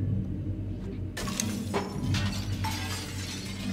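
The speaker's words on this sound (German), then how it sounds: "Der Spiegel sieht so aus, ob man den zerbrechen könnte." A mirror shatters in the game Little Nightmares, a sudden burst of breaking glass followed by scattered tinkling shards over a low rumbling ambience.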